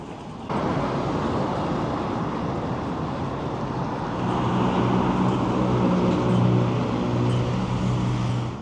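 A train passes near Reykjavik harbour by the marina, a steady broadband rumble that swells slightly in the second half with a low droning hum, continuous and fairly close, with no talking.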